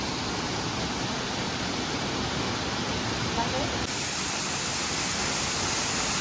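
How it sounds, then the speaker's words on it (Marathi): A hidden waterfall in the Akeri forest pours in a dense, continuous roar, loud and close, with a slight shift in texture partway through. "hidden waterfall"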